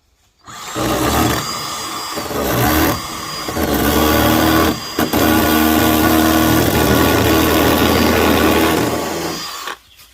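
Power screwdriver driving screws into a wooden guinea pig hut, a loud continuous whirring motor that runs for several seconds, dips briefly twice, then stops, with no talk over it.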